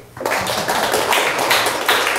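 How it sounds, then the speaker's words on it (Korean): Applause from a lecture class preparing for a power transmission and distribution engineering exam starts abruptly after a brief quiet moment, then continues as dense, lively clapping from a roomful of students at close range. "박수 한번 쳐보세요"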